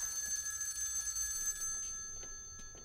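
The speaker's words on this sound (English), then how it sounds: "Answer the phone." A telephone rings with a steady high electronic trill in an animated short film, fading out midway, followed by a few faint clicks and knocks.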